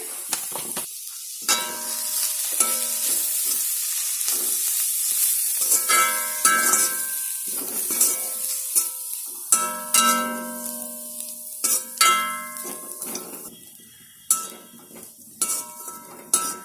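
Coconut powder sizzles steadily while frying in a pan, with a utensil stirring it and scraping and clinking against the metal in uneven bursts throughout.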